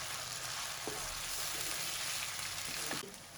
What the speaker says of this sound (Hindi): अब इसको हम अच्छे से 5 मिनट के लिए फ्राई कर लेंगे।